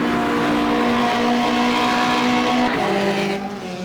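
A Lotus Cortina race car engine in the rFactor racing game, on a 1965 season track, holds a steady high drone, then drops pitch as it shifts near the end. Loud and close, with no talk.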